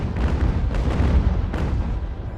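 A ship's cannon volley in the naval battle game UGAR booms out as a rolling series of deep, loud blasts that rumble together for a couple of seconds, with no speech.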